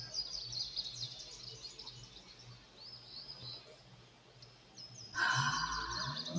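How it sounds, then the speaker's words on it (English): Birds chirp and trill in a quiet morning setting, with light high calls scattered throughout and a louder, closer burst of chirping near the end. "Listen to those birds chirping away their songs of praise."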